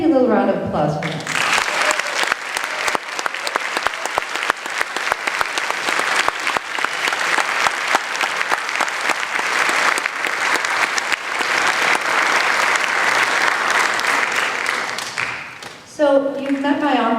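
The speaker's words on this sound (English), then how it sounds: "So maybe a little round of applause for them." Audience applause for the officers rises after a brief spoken line and holds as a full, even burst of many hands clapping for about fourteen seconds before fading, with speech resuming at the end.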